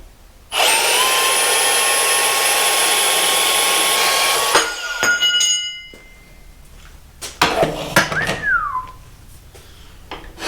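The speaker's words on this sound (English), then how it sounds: "I think that's my best cut with the bandsaw so far." A bandsaw cutting through metal for a truck suspension project, a loud high whining drone for about four seconds that cuts off, followed by clanks and handling noises nearby.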